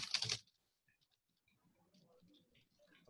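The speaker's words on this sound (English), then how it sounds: "You see, you heard my keyboard just now?" A computer keyboard being typed on, a quick burst of loud, dense key clicks lasting under half a second, then only faint scattered sounds.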